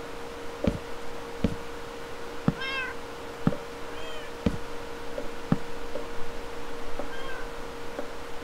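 Minecraft cat meowing several times in a game world, short rising-falling cries spread across the clip over a steady hum, with sharp block-placing knocks between them.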